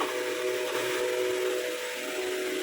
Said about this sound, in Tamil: அடுப்பு ஆன் பண்ணுறேன்